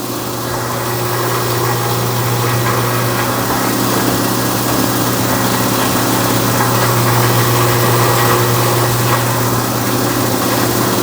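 A BDG Compact 1 mini granulator runs with its blower fan and shaker table going, producing a loud, constant mechanical hum and rattle with a low drone that never lets up.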